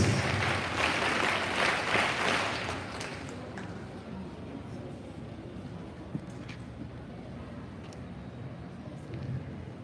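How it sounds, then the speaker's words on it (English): An audience claps at a school investiture ceremony at St. Ann's Girls High School in Hyderabad. The applause is full for about three seconds, then fades into faint room noise. "Give them a good round of applause"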